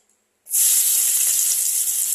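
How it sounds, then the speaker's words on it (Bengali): Chopped onion goes into hot oil in a wok after fish has been fried there, a sudden loud hiss bursting out of silence and holding as a strong, steady sizzle. "ওই তেলের মধ্যে পেঁয়াজ কুচি আমি দিয়ে দেব।"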